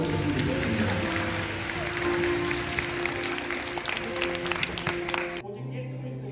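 A church congregation gives a round of applause after a Sunday worship team's performance, clapping mixed with crowd noise and sustained musical tones, stopping abruptly near the end to leave a quieter hum.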